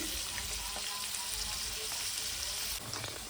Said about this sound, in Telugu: ఇవి డీప్ ఫ్రై ఇట్లా గోల్డెన్ కలర్ వచ్చేదాకా అని ఇలానే పెడుతున్నా